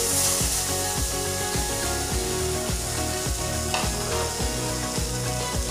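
Washed broken wheat roasting and being stirred in a pan gives a continuous dry sizzle and crackle, with regular scraping strokes of a spoon roughly every half second.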